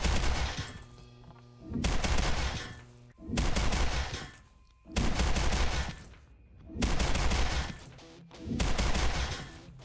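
Gunfire in the video game Orange Moon, as five or six loud bursts of rapid repeated shots, each lasting about a second, separated by short gaps of quieter game sound.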